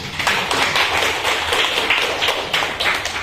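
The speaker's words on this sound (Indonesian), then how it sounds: "Jadi tepuk tangan untuk Desta dan Daniel." Students in a classroom clap for two classmates, Desta and Daniel, a short burst of uneven, fairly loud hand clapping with audible pulsing as individual claps fall in and out of rhythm.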